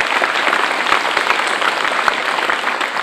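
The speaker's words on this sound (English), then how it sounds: "Let's give them a big round of applause if you would" A county government audience applauds at a State of the County speech, with dense, steady clapping from many hands throughout and no speech over it.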